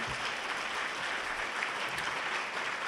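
Audience applause thanking a conference planning team, student team and media crew: dense, steady clapping throughout, loud and sustained with no pauses.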